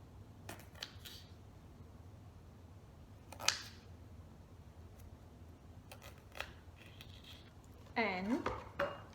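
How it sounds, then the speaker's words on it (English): A knife slicing grapes in half for a fruit salad: a few faint, isolated cutting clicks and taps on a board, spread out with quiet pauses between them and a slightly busier knock near the end. "So I'll take a few grapes, cut them in half as well"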